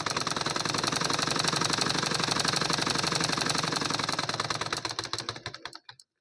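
Sewing machine stitching a cotton lining blouse, a rapid steady mechanical whirr that runs evenly, then slows and stops near the end, close by with no talking.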